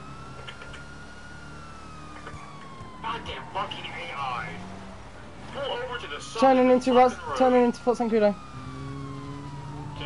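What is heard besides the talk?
police car siren in a video game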